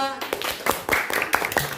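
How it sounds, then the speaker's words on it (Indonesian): A class of students claps briefly for a group in a classroom, a few scattered hand claps close by and mixed with voices. "Ya, tepuk tangan untuk kelompok 2."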